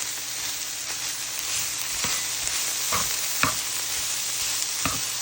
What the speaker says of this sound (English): let's add in the spinach. We're going to cook that until it gets wilted.